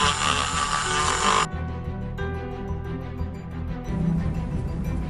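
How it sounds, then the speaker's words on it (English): A resin ball is sanded with a small power tool, a loud high whine that cuts out abruptly, leaves a quieter scraping pause, then starts up again near the end, close and alone. "we're actually gonna sand this first then"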